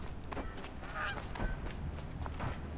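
Settlement turkeys in the video game Horizon Zero Dawn give scattered honking, gobbling calls over a low ambient bed. The calls come several times, fairly close, with no one talking.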